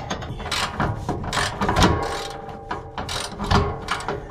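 A wrench works loose the bolts holding a vehicle's steering box, giving close, loud bursts of ratcheting clicks and metallic clanks that stop and start with short pauses.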